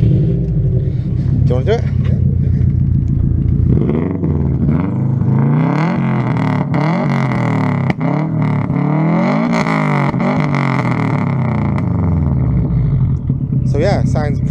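A turbocharged rear-wheel-drive Subaru Impreza wagon engine cranks and fires up, then idles with a deep rumbling exhaust and a few revs, while a person talks over it.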